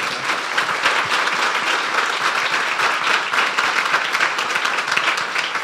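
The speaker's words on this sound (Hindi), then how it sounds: "तालियां बजा दो यीशु के लिए।" A church congregation applauds for Jesus during a Hindi-language sermon, a loud, continuous crowd clapping that stays dense and even from start to finish, with no speech over it.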